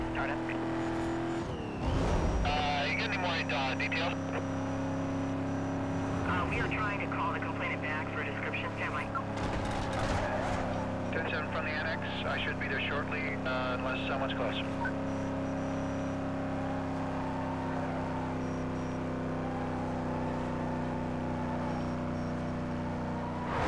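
A car engine drones steadily through a police chase in Need for Speed Most Wanted, with the car failing to accelerate. The engine tone is sustained and even, with a few brief louder bursts on top.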